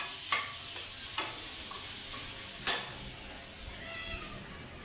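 Garlic being stirred and lightly sautéed in a pan for Puneri vada pav, a steady close sizzle with a few sharp scrapes and taps of the spoon against the pan, no voices.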